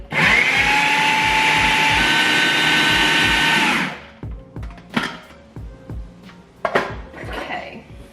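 A food processor blitzes oats for banana blueberry muffins, a loud steady whirring buzz for about four seconds that cuts off, followed by scattered clinks and knocks of the bowl and lid.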